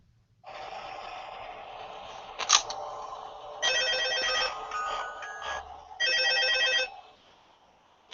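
An office telephone rings in the horror video game Five Nights at Freddy's 2, Night 5, with loud, trilling bursts repeating in separate rings, then stopping abruptly as the call connects.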